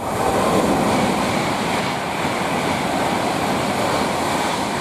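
Train 39009 passes on the West Coast Main Line at Nuneaton, heading to Glasgow Central, a loud, steady rolling rumble with a dense broadband rush close by and no voices.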